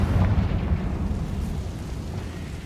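Rumbling blast of the Confringo explosion spell in the Hogwarts Legacy video game, a loud, dense burst that dies away slowly into a low roar over about three seconds.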